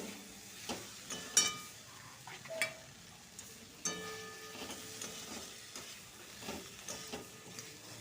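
Drained boiled chickpeas stirring into a spiced masala in a pan for ghugni, a quiet steady sizzle with scattered scraping stir clicks and a few sharper knocks, no talking.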